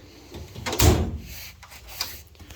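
Drawer of a Harbor Freight 56-inch tool box sliding open with a single loud metallic rumble and thump, followed by a few faint clicks and rattles.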